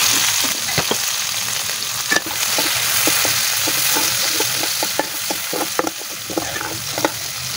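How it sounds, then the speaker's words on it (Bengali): Fish frying in oil in a pan over a clay stove, giving a constant crackling sizzle. Intermittent scraping and clinking from stirring sit over it, close and clear, with no talking. "তো আমি এখন মাছগুলো ভাজি করে নিচ্ছি"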